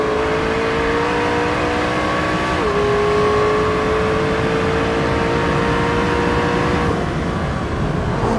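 Twin-turbo 3.8-liter V8 of a 2017 McLaren 650S supercar revving loudly and steadily, pitch rising and shifting with a clear whine of turbos spooling up, close and continuous with no talking.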